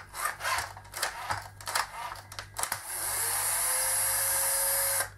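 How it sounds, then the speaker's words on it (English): Someone first scrapes and clatters with hand work, then a battery power tool whines steadily at close range for about two seconds while a blade is loosened and removed. "Now I just use a power tool."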